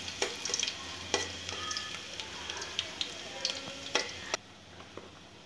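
Crushed garlic cloves frying in hot oil for sambar, a dense steady sizzle with scattered crackles and spoon scrapes, close and fairly loud, dropping to a quieter hiss near the end.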